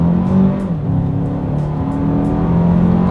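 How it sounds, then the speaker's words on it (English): A 2024 Toyota Grand Highlander three-row SUV accelerates up to speed, its engine drone loud and steady from inside the cabin, with the pitch climbing and a brief dip as it shifts, with no talking. "let's see how quickly we can get our new Grand Highlander here up to speed"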